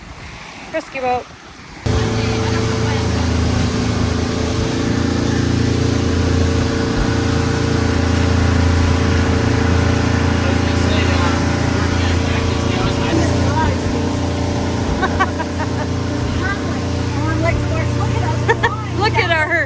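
Rescue motorboat on the Yukon River, its engine droning steadily and loud for nearly the whole stretch after a brief opening moment, with water and wind noise mixed in and occasional voices faintly over it.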